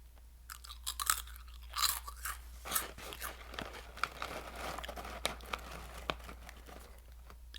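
Close crunching and chewing of crunchy snack chips, with irregular bursts of bites and crinkling between quieter chewing, over a low steady hum.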